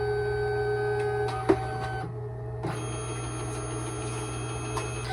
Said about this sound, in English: It's now going to print cyan, and it's going to come and show us that it's printing cyan.